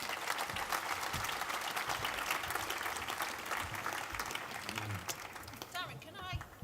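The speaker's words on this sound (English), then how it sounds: "Give them a round of applause." Audience applause fills a conference hall after two business and civic leaders are introduced, a dense steady clatter of clapping that thins toward the end, with some voices mixed in.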